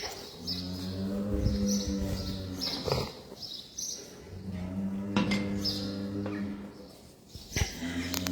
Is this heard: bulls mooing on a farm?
yes